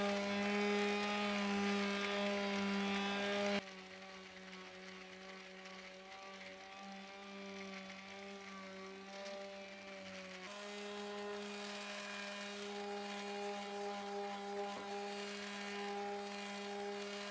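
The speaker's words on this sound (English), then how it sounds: "So we're gonna scuff sand it, just get it ready for some primer" A veneer dining table with a top-coat finish being scuff sanded to prep it for primer. A steady, droning hum with a strong tonal whine runs throughout, with abrupt level shifts as the sanding pressure or position changes.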